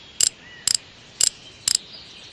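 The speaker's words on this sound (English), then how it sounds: "We need our wrench and tighten this up." Four evenly spaced ratcheting clicks, each a quick triple burst, come from a wrench tightening a bolt on railway track in the game Train Station Renovation, crisp and close against a quiet background.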